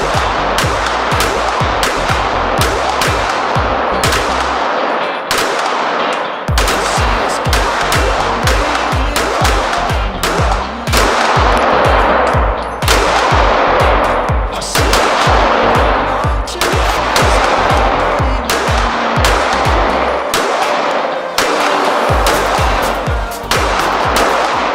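Loud, close gunfire repeats in rapid strings of shots with a few short pauses, from firearms fitted with Olight weapon-mounted lights during a beam comparison.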